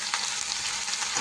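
Drumstick leaves sautéing in a hot pan, a loud continuous close sizzle with faint stirring rustles, heard alone.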